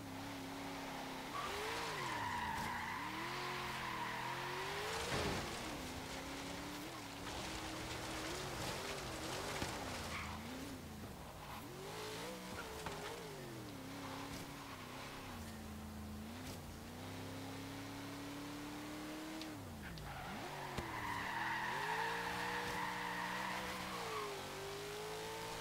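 A 1973 AMC Gremlin X in Forza Horizon 3 autocross, its engine droning and wavering in pitch while tires squeal and skid through long slides, loud and continuous.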